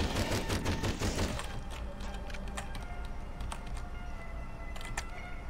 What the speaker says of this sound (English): Spike gun makes worms way easier.